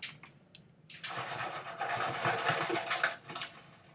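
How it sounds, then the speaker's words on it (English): A steam-powered tractor chugs and hisses nearby, with a few sharp puffs first and then a dense, rhythmic mechanical churning that holds steady for a few seconds before easing off. "the sound effect for this is a steam powered tractor"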